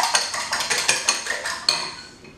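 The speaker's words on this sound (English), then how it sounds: "Give that another little whisk around again." Eggs seasoned with kosher salt and black pepper are whisked in a bowl, a quick run of about ten metallic taps and clinks that slows and fades.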